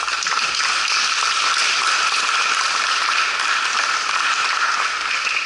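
Audience applause at a recital, dense and continuous clapping from a full room, steady and fairly loud for the whole stretch with no talking over it.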